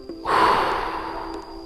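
A single long breath blown out through the mouth during a side-body stretching exercise for nerve pain, close and fairly loud, tapering off gently over about a second with no talking.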